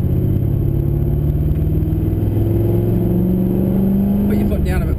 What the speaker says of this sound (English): Start turning in and start accelerating now.